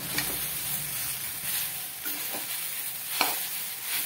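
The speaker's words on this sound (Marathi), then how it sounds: "गॅस फुल ठेवून आता उलटाना मी सारखं इकडे तिकडे करून घ्यायचं" Sabudana khichdi is stirred in an oiled pan over high flame, giving a constant sizzling hiss with soft scraping from the spatula and a few sharper clicks.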